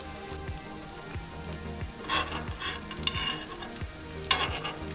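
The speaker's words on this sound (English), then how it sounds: "Alright, so now I'm just gonna let them toast." Ladyfish pieces frying and browning in a pan give off a steady close sizzle with crackling pops and occasional stirring scrapes, continuous throughout.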